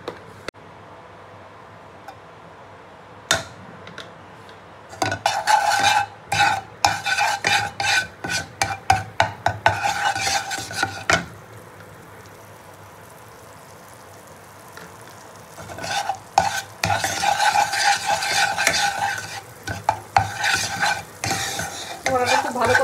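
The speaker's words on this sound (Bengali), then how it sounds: "দিয়ে কড়াইতে আবার একটু বাটার দিয়ে দিচ্ছি" Butter heats in a kadai with a low sizzle under repeated clattering scrapes and taps of a spoon against the pan, which come in busy bursts with quieter gaps between them.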